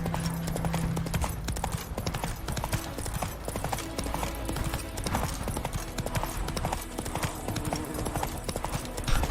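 Roach the horse's hooves clip-clop in The Witcher 3, a steady rapid trot running throughout under dense game music and ambience, loud and close.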